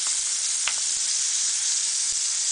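Garlic sizzles in a small but tall frying pan, a steady bright hiss of frying that runs unbroken and fairly loud throughout, with faint stirring clicks underneath.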